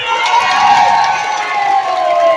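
A crowd at a mayor's public declaration in Gros-Morne cheers and shouts loudly and continuously, a dense roar of many voices with whoops and some clapping mixed in.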